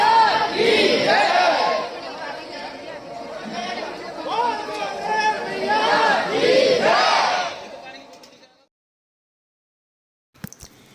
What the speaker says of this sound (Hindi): हर पंगत में पत्तल बांटने से पहले जयकारे लगाए जाते